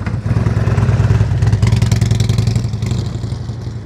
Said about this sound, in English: your motorcycle sounds good, man, so make sure you're listening to that engine.